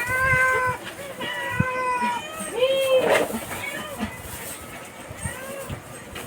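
A cat meows repeatedly at close range, several drawn-out plaintive cries with pauses between, while people talk quietly nearby during a dog-feeding scene.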